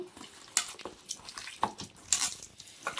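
A spoon stirs chicken pakoda mixture with ginger garlic paste in a bowl, giving repeated close wet scraping and squelching strokes with small clinks, and no voices.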